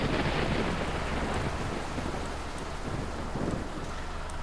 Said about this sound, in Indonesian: Ini baru bilang, hujan sudah mulai reda.